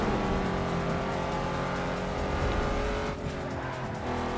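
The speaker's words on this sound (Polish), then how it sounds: "Ten dźwięk silnika do czegoś zobowiązuje." Racing car engine in the video game Need for Speed Underground 2, a loud sustained roar with steady harmonic drone, faint tire squeal mixed in and a brief dip near the end, no voices.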